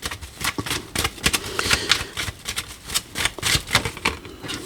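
Oracle cards being shuffled by hand, a quick run of crisp, close riffling snaps and flutters in irregular bursts, fairly quiet and with no voices.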